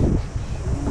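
Strong gusting wind buffets the microphone, a loud low rumble that swells and dips without pause.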